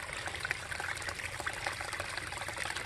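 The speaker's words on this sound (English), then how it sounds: "Got the spring running out." Spring water running out at an abandoned amusement park, a steady trickling, splashing flow heard close and continuous, with no talk.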